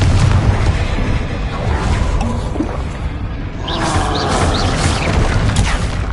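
A Confringo explosive spell in Hogwarts Legacy gameplay blasts with a loud, rumbling boom amid continuous dense combat noise and crackling effects.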